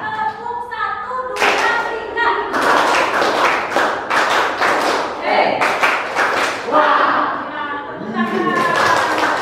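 An audience claps in a counted pattern of one, two and three claps, following a leader who calls out the counts between the bursts of sharp, loud, close claps.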